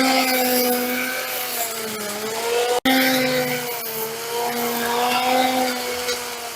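A Ryobi 18-volt string trimmer fitted with a bladed brush-cutter head runs through weeds, its motor holding a steady, close, droning whine with a brief dropout midway. No one speaks.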